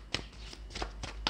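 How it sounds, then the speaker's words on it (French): A Lenormand oracle card is pulled from the deck and set down on the table, giving a handful of short, crisp papery snaps and slides spread through a brief, quiet moment. "Là, je vais y mettre une carte."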